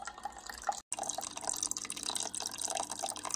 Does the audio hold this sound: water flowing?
yes